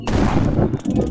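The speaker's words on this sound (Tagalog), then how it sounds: "Baril natin yung bad guy." Gunfire in a police versus bad guys video game: a quick burst of loud, booming shots in rapid succession, close and heavy, with a brief gap before more rattling fire.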